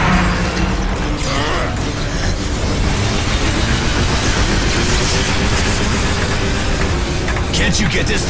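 Steady rumbling of a train moving on rails in the video game Bulletstorm, loud and continuous throughout, with mechanical clatter and voices talking over it.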